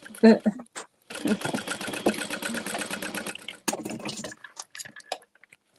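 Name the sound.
sewing machine stitching a tote bag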